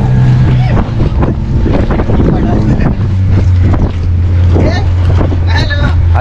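A boat ride on the sea in rain at Malvan: a loud, steady motor drone and buffeting wind on the microphone, with people talking over it.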